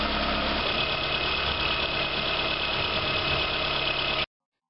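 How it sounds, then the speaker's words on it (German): A Peugeot 206 engine idles steadily with the coolant expansion tank open, a constant low rumble and mechanical clatter, close and even throughout, then cuts off abruptly. "Wir lassen den Motor nun mit offenem Ausgleichsbehälter laufen"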